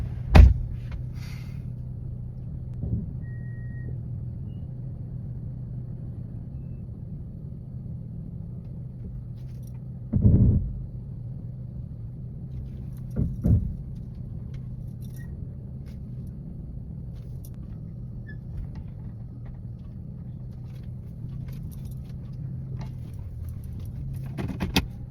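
A car reverses slowly out of a parking space, a low steady engine rumble inside the cabin, broken by a few brief knocks and thumps, with no talking.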